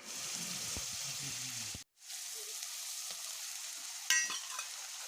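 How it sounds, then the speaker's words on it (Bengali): Onion, ginger and garlic paste fries in hot oil with whole cumin, bay leaf and cinnamon, a steady close sizzle broken by a brief dropout near two seconds and a sharper burst of crackle toward the end. "দিলাম পেঁয়াজ বাটা, আদা বাটা, রসুন বাটা করে একটু ভেজে নিলাম"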